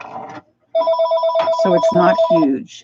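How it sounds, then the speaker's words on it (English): A telephone rings indoors in a sustained, warbling ring, loud and close, following a brief spoken phrase that is cut off as the ringing begins. "I apologize for that phone ringing."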